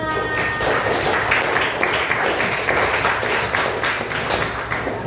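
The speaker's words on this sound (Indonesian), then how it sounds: "kita kasih tepuk tangan untuk kita semua" A room full of participants, including young children, clapping together at a workshop session, a dense, steady burst of applause that stays loud for several seconds with scattered voices mixed in.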